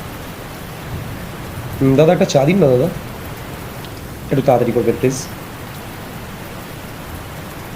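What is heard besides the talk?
heavy rain falling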